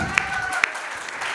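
An audience applauds steadily at a gathering, a continuous dense patter of clapping with a couple of sharper single claps standing out, fairly close and even throughout.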